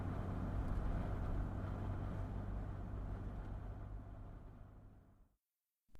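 A car engine hums low and steady as a vehicle draws near at night, a radio-drama sound effect, holding fairly loud before fading away and cutting to silence near the end.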